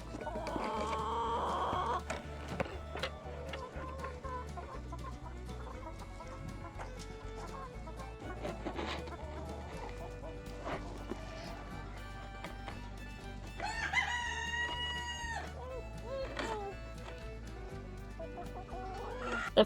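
Chickens cluck busily and continuously in a noisy farm coop, scratching in wood chippings, with a rooster crowing loudly now and then, a longer crow rising near the middle.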